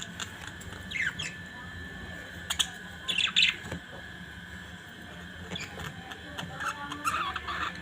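Pet budgies chirping and squawking in short, scattered bursts, fairly faint and close, with quiet gaps and a steady background hum between calls.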